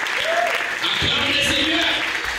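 A church congregation claps and cheers in a broad, continuous wash of applause, with shouted voices rising over it throughout.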